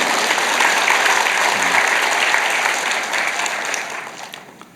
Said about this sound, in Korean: 박수 한번 더 치주세요.